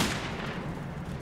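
A single gunshot in the video game Metro 2033 Redux, a sharp blast at the start that decays into a low rumbling tail, moderately loud with no talking over it.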